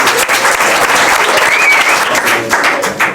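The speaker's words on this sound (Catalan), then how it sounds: "Pues jo crec que se mereixen un gran aplaudiment." Dense, steady applause fills the space from a crowd at a Catalan LP presentation concert, loud and continuous with a faint whistle partway through and no voices standing out.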